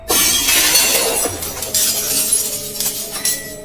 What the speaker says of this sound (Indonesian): Kaca pecah.